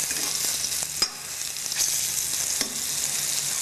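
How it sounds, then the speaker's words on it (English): Pork neck browns in a preheated, oiled pan, giving a continuous close sizzle with occasional sharper pops and spits and no voices. "we don't actually want to cook the meat, we just want to brown the outside"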